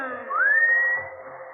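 A single rising whistle slides up and holds a clear sustained note for about a second before fading, with quiet surroundings.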